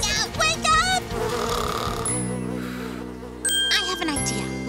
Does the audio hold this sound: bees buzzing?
yes